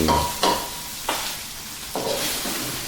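Canned fish and eggs stir-fried in a hot pan, a steady sizzle broken by a few scraping strokes of a utensil against the metal.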